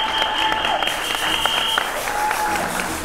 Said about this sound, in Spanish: Pero le brindamos también un fuerte aplauso.